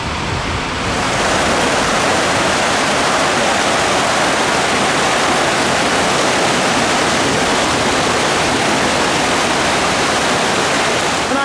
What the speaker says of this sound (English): On ride POV there from the log flume